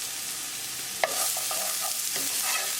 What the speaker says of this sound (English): Cook ginger, garlic until the raw garlicky flavor is gone. Add onion.